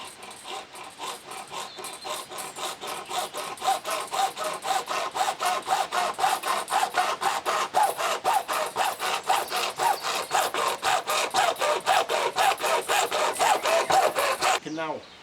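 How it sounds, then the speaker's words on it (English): A hacksaw cuts plastic guttering to length, a rapid, regular series of close rasping strokes that steadily grow louder before stopping abruptly near the end. "You can now cut the gutter to length using an hacksaw."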